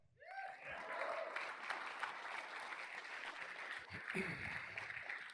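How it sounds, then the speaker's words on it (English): A keynote audience claps, a broad wash of many hands rising quickly and holding steady at a fair distance, with a brief voice or laugh near the start and again toward the end. "You can clap it up for that."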